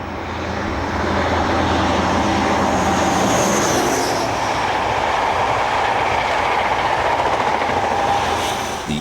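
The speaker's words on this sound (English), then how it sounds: "The backbone of the fleet is the high-speed train, probably BR's most successful diesel train ever in terms of speed and mileage." A British Rail InterCity 125 high-speed diesel train rushes past, a loud continuous roar of engine and rolling wheels that swells after the first second and holds steady, with a faint whine fading near the middle.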